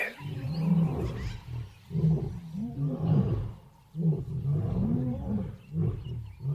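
A big cat roars in a series of deep, grunting bursts, each about a second apart with short pauses between, loud and close with no other voices.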